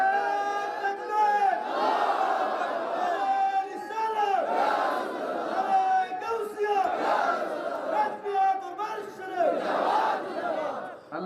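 A large crowd at an Islamic religious gathering, a Bengali waz mahfil, chants a slogan in loud, rhythmic unison, with repeated call-like phrases rising and falling in steady waves throughout.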